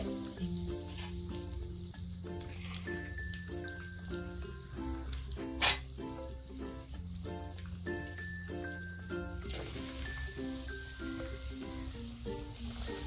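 Shrimp chops fry in oil heated on high heat, giving a soft, steady sizzle and bubbling under tonal background music, with one brief sharp clink partway through.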